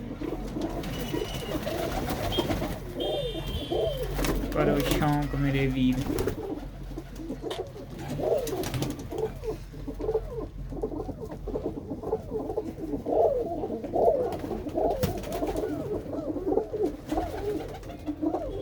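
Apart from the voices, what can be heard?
pigeons cooing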